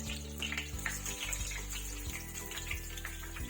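Stuffed aloo chicken bread pakora frying in hot oil, a continuous crackling sizzle with steady bubbling over a low hum, no talking.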